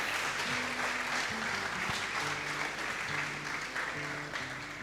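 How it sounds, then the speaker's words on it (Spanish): An audience at a book presentation gives sustained, dense applause, with a low musical tone playing faintly underneath throughout. "Le damos un fuerte aplauso."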